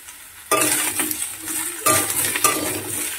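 Green beans and green chillies stir-fried in a pan, with a bright sizzle and repeated metal scraping and clatter of a spatula in bursts, close and loud.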